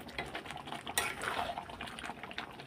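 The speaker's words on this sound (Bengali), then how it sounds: "গরম মশলা দিয়ে এবার একটু নাড়াচাড়া করে দিই" Spoon scraping and stirring through mutton curry with garam masala in a pot, soft rhythmic clinks and wet shuffling at moderate, fairly quiet level with one sharper knock near the start.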